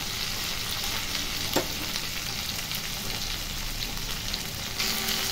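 Chopped tomato stirred in a sizzling pan for khichdi, giving a steady loud frying hiss with a soft scrape of the spoon through the mixture, and no voices.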